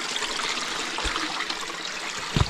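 A creek on a bear-country wilderness trail rushes and trickles in a steady broadband wash, close and continuous, with a few low thumps of footsteps or splashes and no voices.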